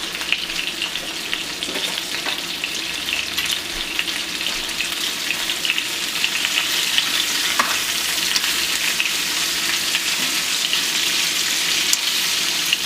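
Sliced onions seasoned with adobo frying in a pan for Puerto Rican steak and onions, a continuous loud sizzle with occasional scraping as they are stirred around, no talking.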